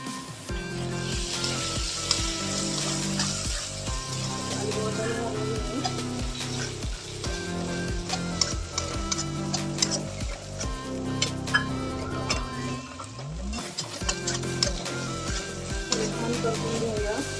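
Chopped capsicum sizzling in a pan with onion and tomato, a steady frying hiss with occasional stirring scrapes and light ticks, no speech.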